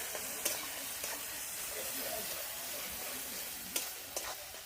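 Spices with chili powder, turmeric and salt frying in a pan, a constant close sizzle with occasional sharp clicks of a spatula scraping and stirring.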